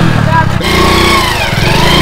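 A Bullet motorcycle ridden in a village gives a loud, close, thumping engine note that dips briefly and then picks up again, with people talking over it.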